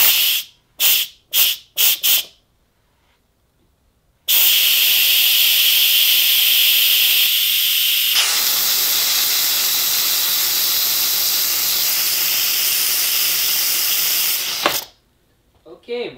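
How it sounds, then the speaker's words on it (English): An Instant Pot Duo pressure cooker vents steam in a loud, steady hiss that runs unbroken for about ten seconds and then cuts off abruptly. A few short bursts come first, with quiet gaps between them. "So I'm going to release the steam."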